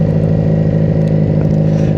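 A 1983 Honda Magna V45 750 motorcycle engine humming loudly and steadily while being ridden, with a constant revving drone throughout.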